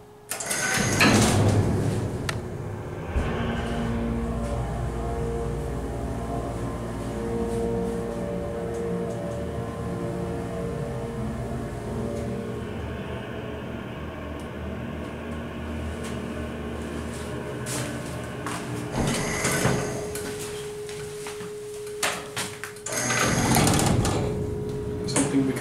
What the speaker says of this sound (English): This is the original freight elevator from Downtown Plaza.